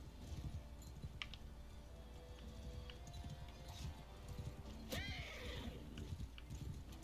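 A horse whinnies loudly with a descending neigh over hoofbeats and busy game-like background noise and music in the video game Bannerlord.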